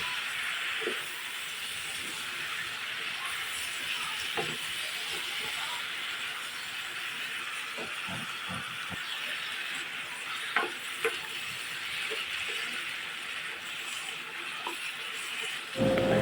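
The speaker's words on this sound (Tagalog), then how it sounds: "So tuloy-tuloy lang sa pagluluto, sa paggigisa ng ating chicken." Chicken sautéing in a pan for kinamatisang chicken with potatoes and string beans gives a steady broad sizzle throughout, with occasional light stirring clicks and scrapes over it, and no talking.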